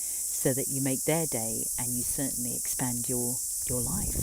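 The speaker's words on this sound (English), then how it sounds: "You can probably hear the cicadas having a right royal time in the background." Cicadas drone in a constant high buzz in the background while a person speaks clearly in the foreground.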